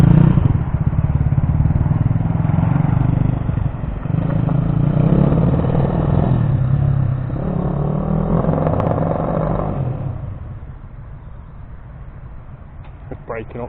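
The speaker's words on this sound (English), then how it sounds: "Breaking up terrible. It's got like a fuel issue or something." A Kawasaki KSR 110 minibike engine runs close by, revving unevenly and stuttering as it breaks up from an apparent fuel fault, with speech-like clatter over it before the engine note drops and quietens near the end.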